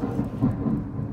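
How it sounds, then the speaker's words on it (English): Thunder during a storm: a deep, rolling rumble with a few heavier swells, fairly loud and close, with no one speaking over it. "If you hear thunder and lightning, yes, it is storming around here."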